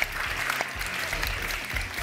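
A studio audience at a Turkish TV show applauds steadily, a dense, sustained clatter of many hands clapping with no break.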